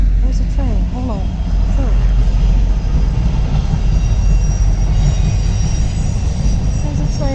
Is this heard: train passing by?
yes